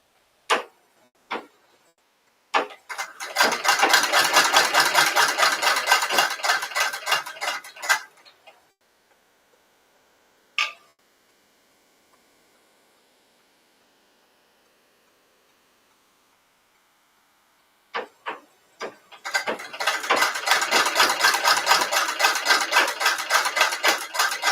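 A sewing machine stitches tucks on a blouse in two long runs of rapid, even clicking, separated by a quiet pause with a few isolated taps, close and fairly loud.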